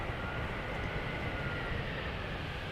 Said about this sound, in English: Right, easyJet has landed.